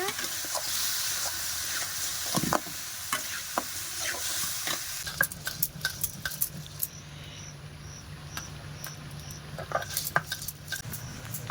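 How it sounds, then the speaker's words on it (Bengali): Lentils frying in a pan for a home-cooked birthday meal, with a steady sizzle under repeated clinks and scrapes of a spoon stirring against the metal, fairly close and moderate in level. "ডালটাকে আগে ভেজে নেওয়া হচ্ছে"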